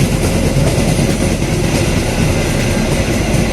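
A long-distance train bound for Gambir passes close by near Manggarai station in Jakarta, a loud, steady rumble of wheels on rail with faint clatter, running alone without talk.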